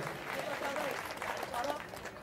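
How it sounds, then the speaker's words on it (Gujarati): An audience claps steadily throughout for the banjo accompanist at a devotional music program, a dense, continuous wash of applause with some faint voice or music underneath. "એને એક વાર જોરદાર તાળીઓથી વધાવી લ્યો."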